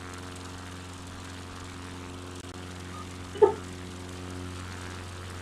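A bush plane idles with a steady, faint propeller engine drone before a short takeoff in Microsoft Flight Simulator 2020, with one brief louder bump partway through.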